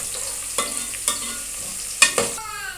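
Onions softening in oil in a pot for mutton nihari, a low sizzle broken by a few sharp scrapes and stirring clatters of a spoon against the pot.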